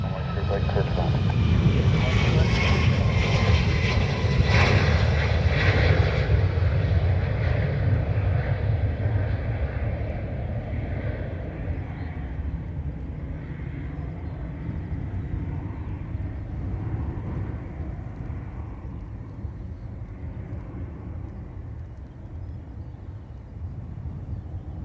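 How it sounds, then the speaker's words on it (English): An ATR turboprop arriving from Liverpool lands at Dublin Airport, a loud broad engine roar close by at first that slowly fades into a lower, distant rumble. "ATR landing from Liverpool"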